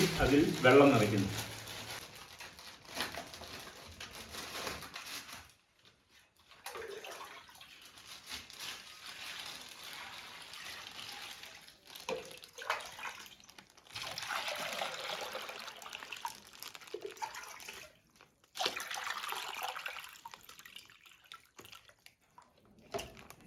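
Water runs and trickles steadily into a basin that holds an LPG gas cylinder, a faint continuous splashing with brief pauses while a person talks over it throughout.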